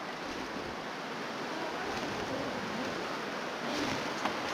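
Steady howling wind in The Long Dark blows as a constant broadband rush that barely changes, with no voices over it.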